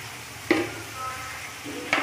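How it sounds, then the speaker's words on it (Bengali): Spice masala with turmeric being sautéed in a pan for a fish curry with cauliflower and hilsa, a steady low sizzle with two sharp stirring scrapes against the pan. "মশলাটাকে কষাতে থাকলাম।"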